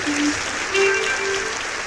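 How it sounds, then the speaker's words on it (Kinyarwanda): A concert audience claps steadily and breaks into ululation, with high trilling voices rising over the applause for a couple of seconds. "Reka mbasabe mumfashe dukoma amashyi n'impundu wabyemerewe."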